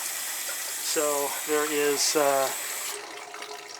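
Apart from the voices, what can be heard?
water gushing out of an opened valve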